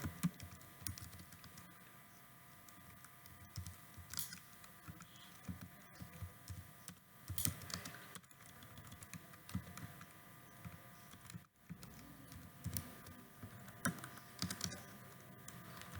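Keys clatter on a computer keyboard while a C++ calculator program is typed, a quiet, close run of irregular taps and short bursts over faint room hum.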